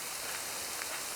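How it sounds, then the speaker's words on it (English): Steady rain falling in the open along a coastal hiking circuit on the Freycinet Peninsula, a soft continuous hiss with no voices. "It started raining again"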